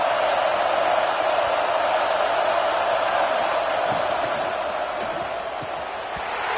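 A dense, roaring stadium crowd at a football game fills the air with a continuous broad wash of noise, loud and unbroken for several seconds, with faint scattered shouts within it.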